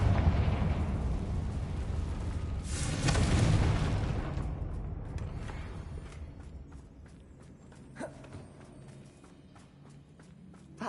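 A Confringo fire spell blast in Hogwarts Legacy, fought among Ranrock's loyalists, bursts loud near the start and rumbles off over several seconds, with smaller impacts and thuds trailing after.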